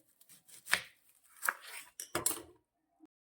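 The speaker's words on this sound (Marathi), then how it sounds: "कांदा घेतलेला आहे तो आपल्याला बारीक चिरून घ्यायचा आहे" A knife finely chops an onion on a board, with three or four separate close, crisp cutting strokes at uneven intervals and a faint tap at the end, no talk.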